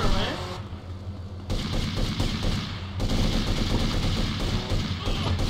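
Gunfire erupts in GTA Vice City: rapid automatic bursts and crackling shots, loud and continuous, in several waves with brief lulls between.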